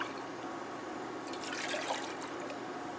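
Water is poured into a pan of tomato sauce for a meatball, sweet sausage and pork rib dish, a steady liquid trickle and splash that rises briefly in the middle, with no talk.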